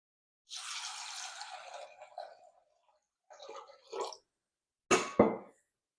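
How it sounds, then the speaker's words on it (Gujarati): Toor, chana and masoor lentils being rinsed with water: a soft swishing wash, a pause, more splashing, then two sharp sloshes as water is poured, close and fairly quiet. "બે થી 3 પાણીથી આને આપણે ધોઈ નાખવાનું છે"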